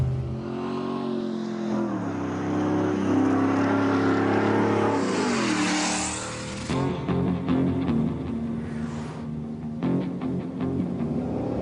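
A Hennessy-modified Ford F-150 Raptor SVT truck engine revs and roars loudly and deeply, rising in pitch before dropping back to a throaty rumble; no voices.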